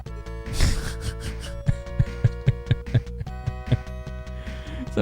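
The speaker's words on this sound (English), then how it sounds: "That's the sound of falling in a pit." Harsh, aggressive pit-falling sound effect from Phantasy Star 2 on the Sega Genesis, a noisy burst followed by a series of rhythmic low thumps over a droning synthesized tone, heard alone.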